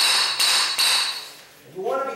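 A hammer strikes twice in quick succession with sharp, close knocks while vinyl floor tiles are pried up against a wall baseboard; a voice begins talking just after.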